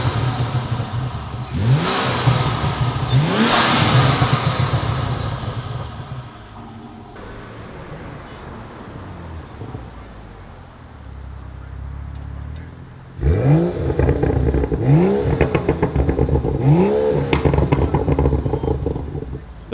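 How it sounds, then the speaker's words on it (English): BMW M235i with a muffler delete, high-flow Y-pipe and AFE air intake, revved in sharp repeated bursts. Each loud blip rises and falls back to idle, and a second set of revs follows a quieter pause. "Matt's gonna go in there and rev it."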